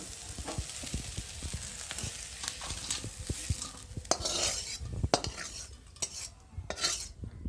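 Fried vegetables for chow mein are stirred in a metal pan and tipped out, with a quiet sizzle beneath repeated close scrapes, taps and clinks of the utensil against the pan, getting busier toward the end.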